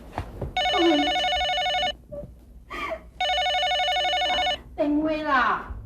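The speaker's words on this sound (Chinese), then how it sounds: "电话啦！" A telephone rings in two long, loud bursts of electronic trilling separated by a pause, with people talking in the gaps.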